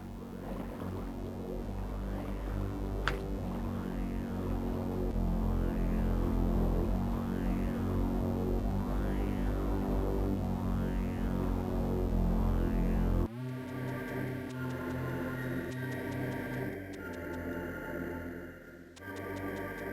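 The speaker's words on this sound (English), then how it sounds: "Metroid music's so good too." Metroid Zero Mission game soundtrack: a dense, throbbing ambient piece with low droning pulses and swelling, echoing tones that shifts abruptly into a sparser, darker section near the end, playing steadily with no voices over it.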